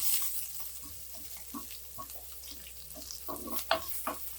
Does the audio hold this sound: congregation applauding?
no